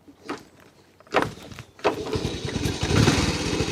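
A Honda C90 Cub motorbike in neutral is cranked a couple of times, with short bursts at first, then catches and settles into a steady, close idle that grows slightly louder.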